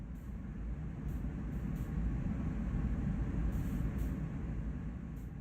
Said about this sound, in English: Perform a brake application on this train of 20 cars to see this process in action.